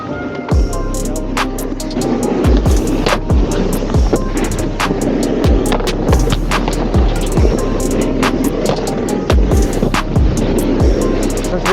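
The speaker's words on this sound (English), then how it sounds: "I guess we're snowboarding." Snowboard riding down a mountain slope: a loud, steady rush of board and wind noise broken by repeated sharp scraping carves at an uneven rhythm, close up and with no talking.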